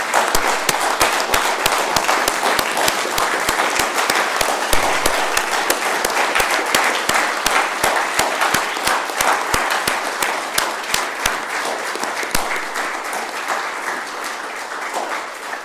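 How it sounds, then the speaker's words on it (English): Sustained audience applause at a mayor's news conference honoring firefighters, a dense wash of many hands clapping loudly and steadily for about fifteen seconds, tapering slightly near the end. "Let's give them all a nice round of applause."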